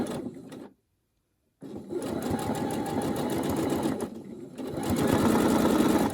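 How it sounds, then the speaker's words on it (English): A sewing machine runs a straight stitch down the center of a fabric scrap roll. It gives a loud close rhythmic whirr in two runs with a short silent pause between them, and there is no talk. "I take the sewing machine and I'll just lift it up here and start a straight stitch down the center"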